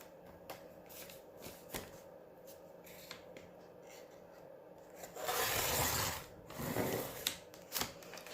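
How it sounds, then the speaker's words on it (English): Paper cover of a vintage cookbook being cut partway up, heard as quiet scraping and rubbing strokes with small ticks, swelling into a louder, denser rasping cut near the end. "I'm going to cut it about, probably about halfway up here."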